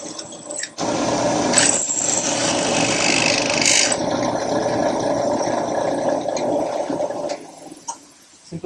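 A continuous loud whirring grind of a drill boring through metal, steady for several seconds before stopping, with a few clicks at the end.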